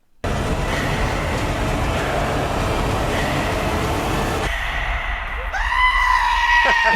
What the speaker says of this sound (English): screaming goat